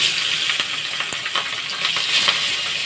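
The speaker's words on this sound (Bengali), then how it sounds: "নুন হলুদ মাখা মাছটাকে এবার ভাজতে দেবো।" Pabda fish rubbed with salt and turmeric frying in hot oil, a close, continuous sizzle with sharp crackles and spits popping through it, and no one talking.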